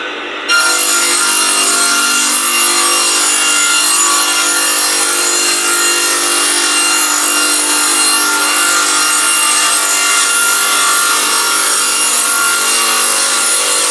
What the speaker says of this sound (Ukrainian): І тепер можна включати пуск пилки і ход туди. Буде трошки шумно.